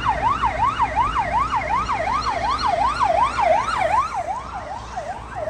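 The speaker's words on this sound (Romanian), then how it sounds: "Uite, mai vin mașini de poliție." A police siren wails steadily, its pitch sweeping up and down in a fast repeating cycle, loud and sustained with no voices.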